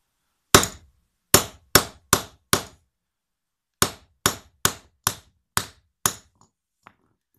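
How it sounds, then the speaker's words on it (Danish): A hammer crimps a cable lug during terminating work on a 60–72 kV cable: eleven sharp metallic strikes, a quick burst of five, a pause, then six more in steady rhythm, close and clear with no talk. "Jeg har nemlig fået hammerslaget."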